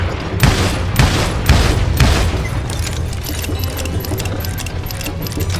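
Gunshots in Call of Juarez: four loud, evenly spaced shots about half a second apart, each with a booming report, then a fading reverberant tail of lighter clatter.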